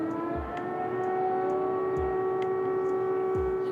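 An air raid siren wails steadily over Kyiv, a sustained tone with harmonics, with low thuds recurring at regular intervals beneath it.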